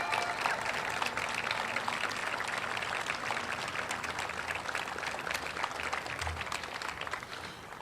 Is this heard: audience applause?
yes